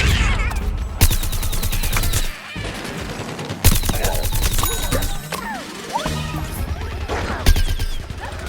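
Sunflower's Sunbeam ability firing in the video game Plants vs. Zombies Garden Warfare during 24-player Team Vanquish, loud continuous buzzing beam bursts of a few seconds each, with crashing impacts and chaotic battle effects between them.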